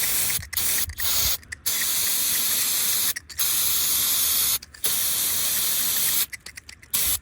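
An aerosol can sprays in several bursts of loud hissing during repair of a broken-down Prevost bus, some long and some short, separated by brief pauses.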